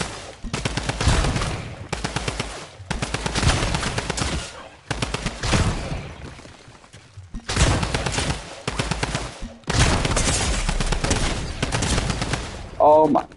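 Video game gunfire in Reaper Royale comes in several long rapid automatic bursts separated by short pauses, loud and close, with a voice briefly heard near the end.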